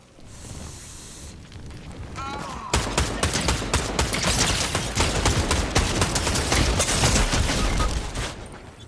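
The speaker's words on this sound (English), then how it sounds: "Someone's firing" Rapid automatic gunfire rattles in Fortnite, a dense sustained barrage of close loud shots starting abruptly after a quieter lead-in with brief mechanical whirring.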